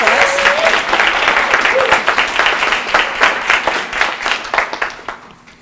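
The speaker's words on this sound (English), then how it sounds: "a round of applause" Audience applause at a Project READ volunteer tutor recognition event, a dense steady wash of many hands clapping that holds strong throughout and tapers slightly at the end, with faint voices mixed in.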